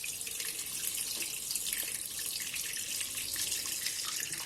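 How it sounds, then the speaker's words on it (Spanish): Hot tap water gushes into a cooking pot until it is about half full, a steady, close rushing splash that holds at an even level throughout with no voices. "lleno ahora la olla de agua aproximadamente hasta la mitad. Le pongo agua caliente"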